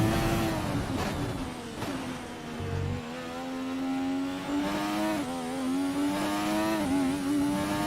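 Formula 1 car engine in the F1 2020 racing game, loud and steady throughout, its high whine rising and falling as the car accelerates and shifts gears, with no talk over it.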